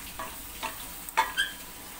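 Quiet sizzle of minced meat frying with onions and peppers, broken by a few soft scraping stirs in the pan.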